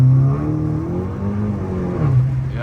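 A Stage 3 tuned Golf MK6 GTI accelerates hard in third gear with its wheels spinning, the engine droning loud and steady from inside the car as the revs climb and waver.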